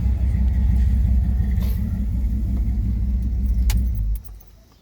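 The engine of a 2001 Dodge Durango RT with a small cam and a ported, polished, baffle-free intake idles with a loud, lumpy low rumble and audible suction, plus a metallic jingle of keys, then cuts off abruptly near the end.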